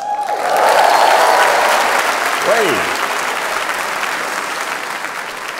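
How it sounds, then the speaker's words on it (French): Audience at a stand-up comedy show applauding, a dense wash of clapping and crowd noise swelling early then holding steady, with a brief spoken word from the performer over it. "merci beaucoup pour cet applaudissement"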